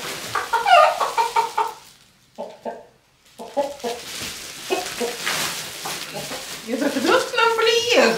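Hens cluck and squawk in short bursts while being moved into a coop, with a brief quiet gap partway through and people talking nearby.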